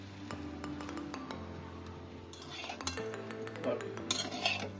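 Chinese fried rice stirred in a pan at home, heard as quiet metallic clinks and scrapes of a utensil against the cookware, with sporadic taps growing busier toward the end.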